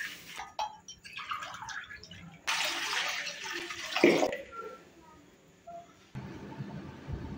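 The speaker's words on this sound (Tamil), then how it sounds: "ரெண்டு டம்ளர் தண்ணி ஊற்றி" Two tumblers of water poured into a pan on the stove while making ukkarai, a splashing pour in separate bursts, close and moderately loud.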